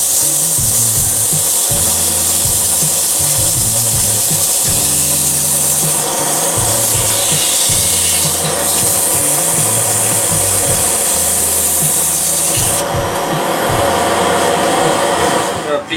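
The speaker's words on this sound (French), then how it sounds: "on va donner un petit peu de ponçage" Sanding a sweetgum wood nutcracker with a power sander gives a loud, steady whirring hum with a gritty rubbing texture. Pitch and pressure shift slightly as the sander works across the wood, without pause throughout.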